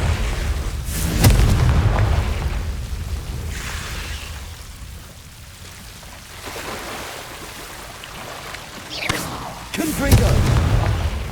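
Confringo explosive spell in Hogwarts Legacy against a giant Devil's Snare-like plant, heavy booming blasts near the start and again toward the end, with rumbling low ambience between.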